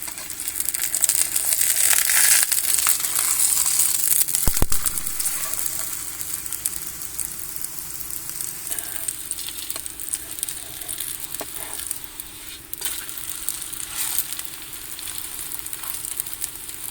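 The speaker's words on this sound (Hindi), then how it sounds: "पराठे को हम दूसरी तरफ से पकाएंगे।" An egg paratha sizzles steadily in a hot pan as it cooks on its second side. The frying hiss is close and continuous, with a brief knock near the start and no talk.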